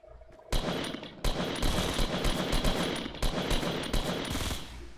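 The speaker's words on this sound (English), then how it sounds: "I'm gonna shoot in a second." A gun in Fortnite fires repeatedly in loud, rapid bursts that run almost continuously for several seconds, close and punchy.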